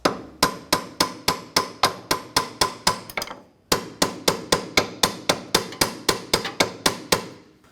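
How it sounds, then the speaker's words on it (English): A hammer taps a clevis fork up onto a strut while an Acura TL's right CV axle is replaced. Two fast, even runs of loud, close metallic blows are split by a short pause. "we're just going to go ahead and tap the clevis fork up"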